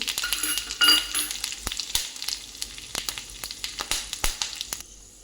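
Cumin, mustard seeds and dried red chilli sizzle loudly in hot oil, with a steady frying hiss broken by sharp spattering pops and a few stirring scrapes, close by.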